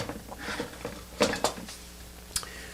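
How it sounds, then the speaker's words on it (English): A ladle scoops home-brewed Double IPA wort in a pot, giving a few scattered metallic clinks and scrapes with soft liquid sloshing, close and fairly quiet. "Now I'm going to use a ladle"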